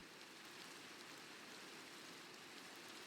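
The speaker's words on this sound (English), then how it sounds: "It's raining." Steady rain hisses evenly throughout a video game scene, a soft continuous wash of drops with no breaks, quiet and ambient with no voices.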